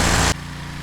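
A Cub Cadet 1641 garden tractor engine idles steadily up close, with a louder burst of broadband roar for the first third of a second before it settles into a lower, even hum.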